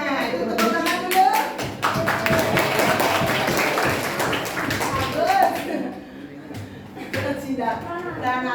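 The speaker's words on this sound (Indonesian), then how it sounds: "Nah, itu tepuk tangan dulu." Schoolchildren in a classroom clap together, a dense, lively round of rhythmic clapping that runs for several seconds. Children's voices and chatter mix in, and an adult speaks over it as the clapping fades.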